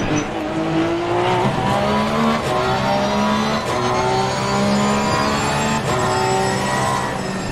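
A Bentley race car in Assetto Corsa Competizione roars continuously through gear changes, its engine rising and falling in pitch while tyres squeal during cornering, loud and close with no talking.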